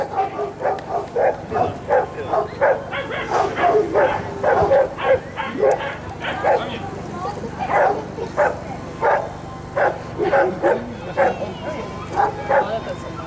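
Several dogs at an obedience demonstration in Bulgaria bark, yip and whimper in short repeated bursts, loud and close, with people talking over them.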